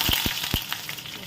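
Bay leaf, cinnamon and cardamom fry in hot oil with a close, loud sizzle, marked by three quick low thumps as the whole spices are dropped in.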